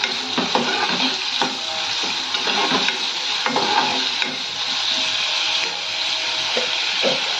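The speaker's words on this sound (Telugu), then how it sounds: "ఫ్రై చేసుకోవాలి." Steady frying sizzle with curry leaves and green chillies in a pan, a continuous loud crackle with occasional stirring scrapes and clinks, close up and without talk.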